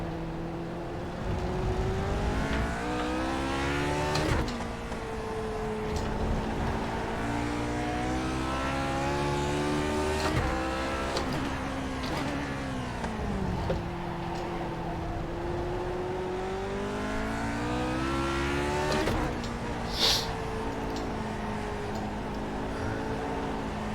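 Lotus 49 race car engine in iRacing, revving up and down as it exits corners, with rising pitch sweeps and brief throttle lifts, loud and close throughout without talk.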